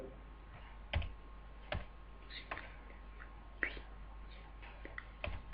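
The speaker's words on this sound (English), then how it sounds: "Type the title as clamping plate and save the file name as clamping plate." Sparse, quiet keystrokes on a computer keyboard entering a file title, a handful of isolated clicks spaced apart over a faint steady hum.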